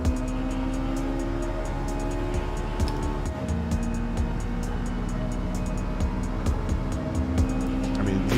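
Racing car engines in Gran Turismo 7, with a Mazda Miata among them, drone steadily at high revs with shifting pitch and faint tyre noise, loud and continuous throughout, with no talk.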